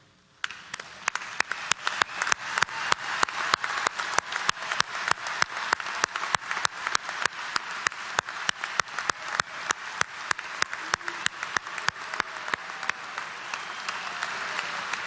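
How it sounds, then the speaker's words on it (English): Sustained applause from a large crowd at a university commencement, dense steady clapping that continues without a break for the whole stretch. "I would ask them to stand and be recognized by our applause"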